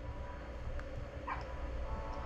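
Dogs in the video game Minecraft give a few faint, brief yips and barks over a steady background hum of game noise.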